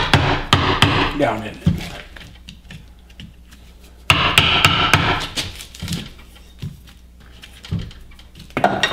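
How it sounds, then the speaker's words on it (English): A hammer knocks bark out of a wooden log before it is drilled for turning into a bowl. The blows come close and loud as sharp irregular knocks in a few bursts, and someone talks briefly in between. "I'm just going to knock the bark out of there"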